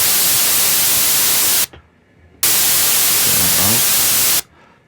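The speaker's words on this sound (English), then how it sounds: "That's pink noise, that's white noise. We need white noise" White noise from a Studiologic Sledge synthesiser sounds as two loud, steady broadband hiss bursts, each cut off abruptly into near silence, with no other sounds.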